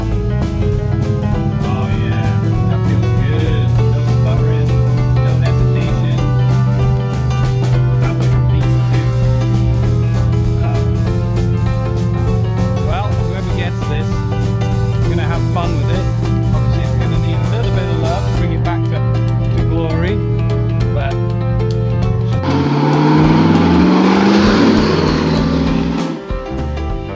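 A vehicle on its first test drive after a carburetor swap hums steadily under way, with a constant low engine drone and road noise, then a louder rush near the end.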